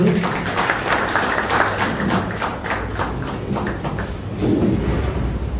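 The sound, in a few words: audience applause for a guest at a book launch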